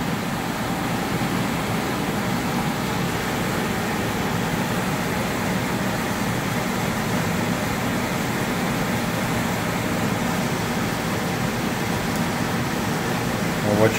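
An HVAC unit's blower motor runs while the system cycles, giving a steady, even broadband whoosh and hum that carries on unchanged throughout.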